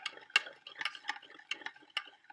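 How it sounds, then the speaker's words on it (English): Spoon stirring salt into water in a cup, a quick run of light clinking taps against the cup, close and fairly quiet, with no voices. "Come in there and stir it up."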